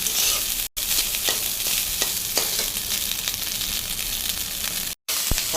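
Rice stir-fried in a hot wok (karahi) sizzles loudly and continuously up close, with scraping stirs and clinks of a spatula against the pan, cut by two brief drops to silence.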